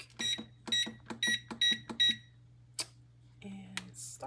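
A kitchen oven's control panel chirps as it is set to bake at 375: five quick, evenly spaced electronic beeps up close, then a pause and a few handling clicks and clatters.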